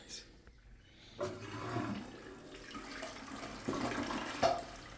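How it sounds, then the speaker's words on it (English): A weak toilet flush with the water supply adjusted to the right fill level: a low rushing swirl of water starts about a second in and runs steadily to the end, moderately loud and close, with no talking. "Toilet flushes when the water supply is at the right level."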